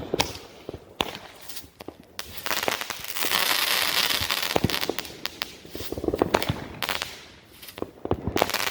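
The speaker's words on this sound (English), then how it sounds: "It's actually not too bad for a little kid-sized artillery shell." Small kid-sized artillery shell firework at a backyard Fourth of July show, bursting into a run of sharp pops and crackles with a sustained fizzing spray, moderately near and alone without talk.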